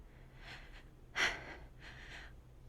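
A man pants heavily in a dramatized horror narration, a few ragged breaths close to the mic with one sharp gasping inhale in the middle.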